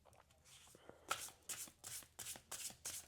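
A deck of tarot oracle cards being shuffled and drawn, heard as a series of close, crisp riffling bursts in a fairly regular rhythm with short pauses between.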